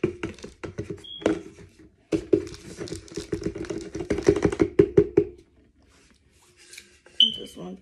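Squeaky scented crumbles mixed with pure Argo starch batter, heard as close, rapid crunching and squeaking bursts in a dense rhythm that stop briefly midway and fade near the end.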